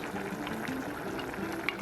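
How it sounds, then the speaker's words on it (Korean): Boiling water poured into a pot of curry with potatoes, a steady close bubbling and splashing pour of liquid lasting throughout. "끓는 물을 넣고 남은 카레까지 싹싹 긁어서 넣어주세요"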